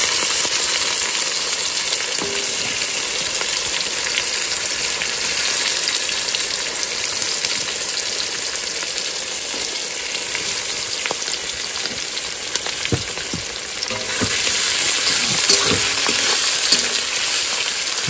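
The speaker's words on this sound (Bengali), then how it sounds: "পেঁয়াজটা দিচ্ছি, ভেজে নেবো।" Onions frying in hot oil in a pan, probably cooked outdoors, a loud, steady, close sizzle with occasional utensil taps and stirring scrapes, growing brighter toward the end.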